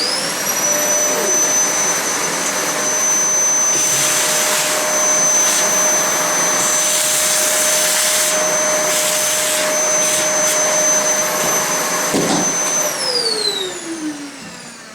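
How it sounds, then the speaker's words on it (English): A vacuum cleaner sucks up loose pieces of ballast on a Märklin K-track model railway layout. It gives a loud, steady, close whine with a sustained high tone that holds for the whole stretch and then winds down at the end. There is no talking. "I'll just vacuum those up first."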